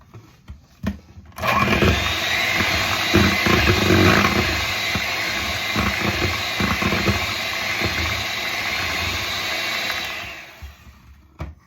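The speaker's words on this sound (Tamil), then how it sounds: "அப்படியே கொஞ்சம் கொஞ்சமாக சேர்த்து அடித்து கொள்வோம்" An electric mixer beats butter and sugar for red velvet cake batter, a steady loud whirring drone running for about nine seconds after a few faint knocks, close and alone.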